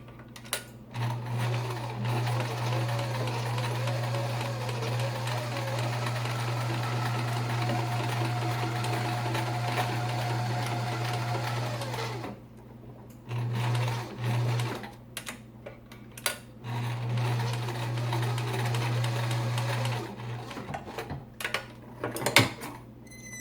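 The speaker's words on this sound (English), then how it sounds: "you will want to use the widest zigzag stitch on your sewing machine and zigzag your edge" Sewing machine stitching a wide zigzag along a fabric edge with wire inside for a surgical mask, close and loud in runs with brief pauses, steady motor hum and rapid needle chatter, ending with a few clicks and clunks.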